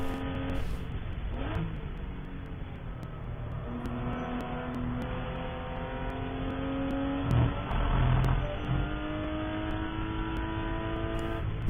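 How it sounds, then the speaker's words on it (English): An endurance race car powering uphill out of a corner at Watkins Glen, its engine climbing steadily through the revs with a brief gear change midway, loud and continuous onboard with no talking. "as he finds the apex and begins powering up that hill"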